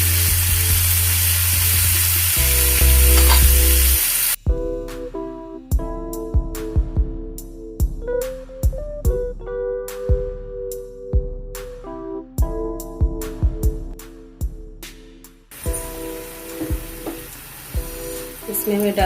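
Tomatoes frying in a pan for potato chutney, a steady sizzle that is loud at first and then continues under tonal background music for nearly twenty seconds.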